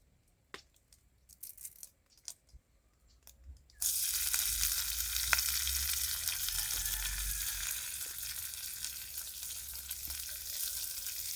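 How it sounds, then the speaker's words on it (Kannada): Curry leaves dropped into hot oil with mustard seeds, a few scattered pops and crackles giving way to a sudden, loud, steady sizzle that carries on to the end. "ಸಾಸಿವೆ ಹಾಕಿದ್ಮೇಲೆ ಕರಿ ಲೀವ್ಸ್ ಹಾಕ್ತಾಯಿದ್ದೀನಿ."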